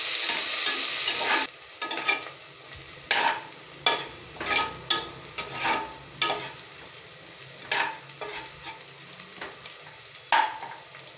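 Long-sliced onions frying in a pan with garlic, steady sizzle under a series of about a dozen rhythmic scraping stirs, close and fairly loud.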